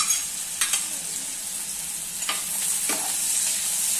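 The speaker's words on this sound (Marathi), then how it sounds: "आता इथे तू कांदा परतायला ठेवलायस, गॅस बारीक ठेवलायस" Chopped onion sautéing in a pan over a low gas flame for a Konkani mokal, a steady soft sizzle with a few brief stirring scrapes, close and without talk.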